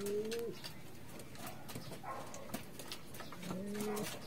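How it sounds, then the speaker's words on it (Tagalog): Racing pigeons at a loft in Rosario, La Union coo in three low, drawn-out calls spread across the stretch, over a noisy outdoor backdrop with faint scattered chirps. "So yan mga kalapatids."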